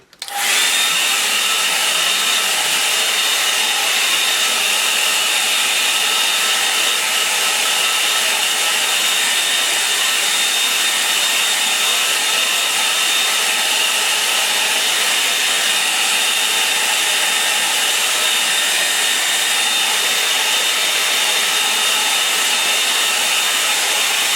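A hair dryer blows continuously at close range over wet watercolour paint, a loud steady whooshing roar with a faint whine, running without pause the whole time.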